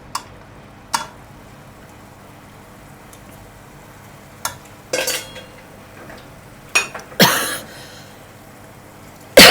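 Pork and chili are stir-fried in a pan for a Thai holy basil stir-fry, with sharp metallic clinks and scrapes of a spatula against the pan spaced irregularly over a quiet background.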